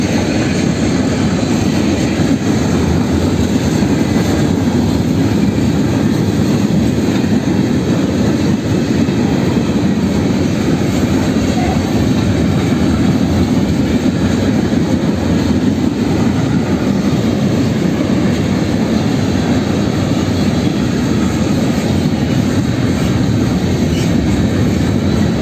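A KCSM freight train hauled by a pair of ES44AC locomotives rolls past up close, a loud, continuous roar and rumble of wheels and cars that holds steady without letup.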